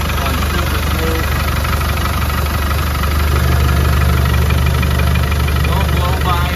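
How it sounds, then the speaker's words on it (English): A 1995 Land Rover Defender 110 with a 200Tdi diesel engine idles steadily, a continuous low, even clatter close by that swells slightly partway through. "This thing fires up within like a half a rotation of the engine, basically. And no serious vibrations at all. Runs super smooth."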